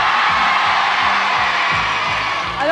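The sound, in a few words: studio audience applauding and cheering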